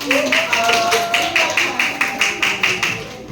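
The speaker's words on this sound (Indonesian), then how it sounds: "beri tepuk tangan buat kelompok" A classroom of students claps together for a group, producing a rhythmic series of about a dozen synchronized claps in a steady beat, close and loud, with a voice talking briefly at the start.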